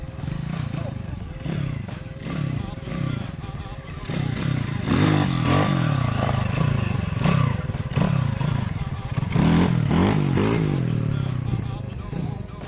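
A dirt bike engine with a baffled exhaust revs repeatedly, rising and falling in close, loud sweeps with some clatter throughout.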